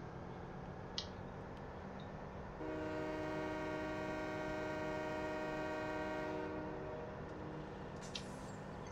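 A train in Farming Simulator 17 sounds a long, steady multi-tone horn lasting about four seconds, loud and sustained over the rolling rumble of the train, with no talking.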